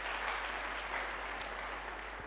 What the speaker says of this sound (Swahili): hebu mpigie Bwana makofi kwanza, mpigie Bwana makofi.